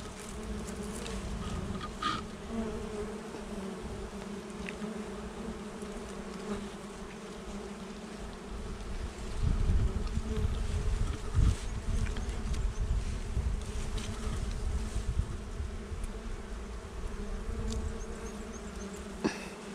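Honeybees swarm around a hive holding clear, watery nectar, their dense buzzing drone running steadily and close throughout, swelling louder partway through.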